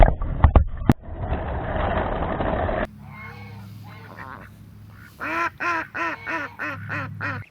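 Domestic ducks quack in a quick series of loud, nasal calls near the end, after a stretch of clattering handling noise and a quieter low background hum.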